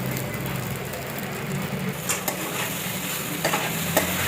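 Sabudana (tapioca pearls) being sautéed and stirred in a pan, a moderate steady sizzle with a few light scrapes and clicks from the spoon.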